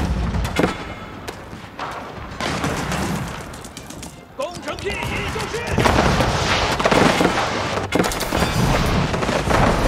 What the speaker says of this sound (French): Canon sur falaise de gauche.